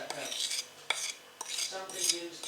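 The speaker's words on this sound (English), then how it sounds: "I'll just sort of smear it up a bit with a spoon or something" A spoon smears icing over a cake, with soft wet scraping strokes and a few light clinks against the plate, close and quiet, with no talk.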